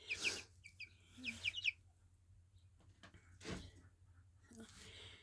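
Jersey Giant chicks peep and chirp in short high bursts, fairly close, with a soft low hum beneath and quiet pauses between calls.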